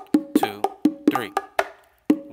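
Bongo strokes are played slowly in a three-count pattern, with distinct open tones and slaps ringing briefly between gaps, close and clear.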